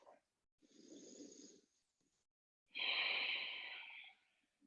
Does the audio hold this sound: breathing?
yes